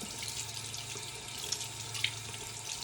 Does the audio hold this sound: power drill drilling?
no